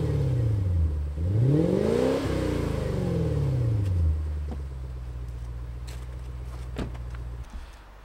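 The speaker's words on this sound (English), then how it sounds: "I like the quiet rumble that they have right now." A Lexus LS430 fitted with Vibrant ultra quiet mufflers revs up and back down twice, a deep exhaust rumble rising and falling, then settles into a low, steady idle with faint clicks.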